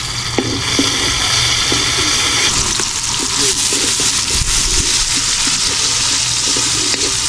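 Onion and garlic sautéing in a wok-style pan over a fire, a steady broad sizzle running throughout beside the sea, with clinks and scraping, low rumble, and faint people talking underneath.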